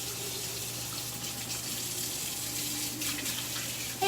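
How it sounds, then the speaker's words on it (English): Steady running tap water flows continuously into a sink, a soft constant rush with faint splashing from hands underneath. "we're washing our hands with hot water and soap"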